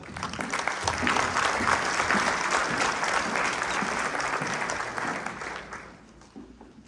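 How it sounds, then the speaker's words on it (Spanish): An audience at an education lecture applauds warmly to welcome a secondary-school department head, with steady, full clapping that fills the room for about five seconds before thinning out near the end. "Recibámoslo con un caluroso aplauso."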